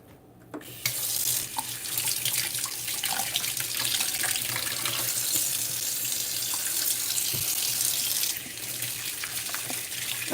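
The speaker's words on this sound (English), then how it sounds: "let me just wash my hands." Water from a kitchen sink faucet runs steadily for several seconds as hands are washed under it, a broad continuous splashing rush with small shifts in tone, ending abruptly when the tap is shut off.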